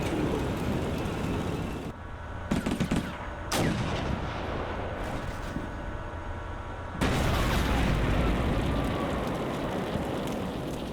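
Tank cannon fire and battlefield explosions in the Combat Mission Cold War video game, an M60 and T-80 tank duel with an Abrams, heard as loud, dense booms and rumbling over a continuous rain-like roar, no talk.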